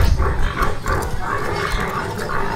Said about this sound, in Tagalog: Nag-ingay ang baboy.